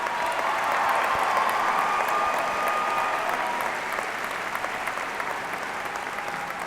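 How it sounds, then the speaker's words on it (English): Steady, dense applause from a large commencement audience honoring the high school valedictorians, sustained throughout and easing slightly toward the end, with no talk over it. "Let's give the valedictorians a well-deserved round of applause"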